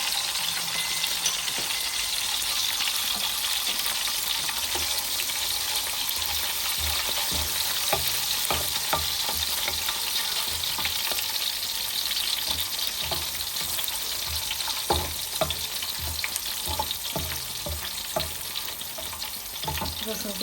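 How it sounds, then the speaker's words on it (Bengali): Chopped garlic frying in oil with whole cumin, a continuous bright sizzle punctuated by frequent clicks and scrapes of stirring in the pan, close and steady throughout with no talking. "রসুনটা একটু লাল লাল করে ভেজে নেব।"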